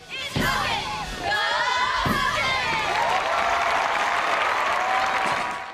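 A crowd at a high school gathering in Buffy the Vampire Slayer (1999) bursts into loud cheering and applause after two thumps, the roar holding steady with shouts before tapering off.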